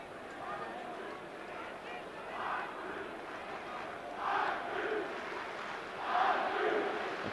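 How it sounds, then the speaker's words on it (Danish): Football spectators at a Brøndby match on a wet pitch cheer and shout in rising waves of crowd noise, swelling three times from a steady distant murmur. "Dejlig, opmuntrende støtte fra tilskuerne efter et forrygende godt og vel kvarter fra Brøndby side."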